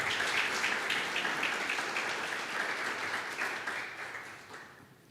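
Sustained applause from a church congregation, steady and dense clapping that gradually fades toward the end.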